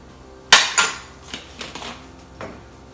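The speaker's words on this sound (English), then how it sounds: "Crack it into a separate bowl, because as hard as you try, sometimes those shells get in." An egg cracked against a hard edge and dropped into a separate bowl while making Italian wedding soup: a sharp close tap, then a second knock, followed by fainter clinks and small kitchen handling noises.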